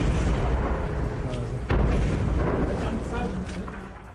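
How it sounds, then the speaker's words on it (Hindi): Explosions from Israeli army strikes on residential areas of Lebanon, a loud sudden blast standing out against a dense, rumbling wall of noise that fades gradually afterward. "लेबनान के रिहायशी इलाकों पर बारूद बरसा रही है।"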